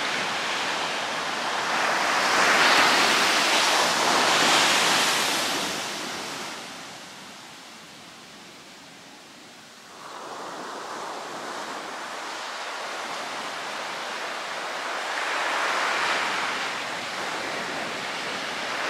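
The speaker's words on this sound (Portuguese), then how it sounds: "Vamos ver o mar de perto." Ocean waves break on the shore in broad washes of surf that swell, fade into a quieter lull and then build again over nearly twenty seconds. The sound is fairly close and no one speaks.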